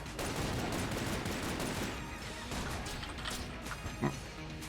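Dense, continuous gunfire from the player's weapon during a boss fight in the roguelike shooter Enter the Gungeon, a loud crashing barrage with a sharp impact near the end.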